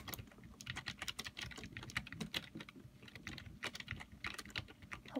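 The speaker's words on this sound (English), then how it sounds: "Can you hear me pushing down the keys to move?" Computer keyboard keys pressed rapidly and steadily to move a character in a game, a close, dense stream of clicks with no talking.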